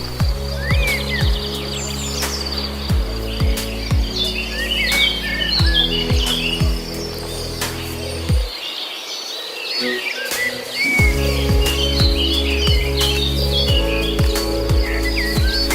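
Birds call and chirp through a mangrove forest on Palawan, many scattered tweets and trills over a dense, steady bed of insect and cricket buzzing, with a brief dip in the low background partway through.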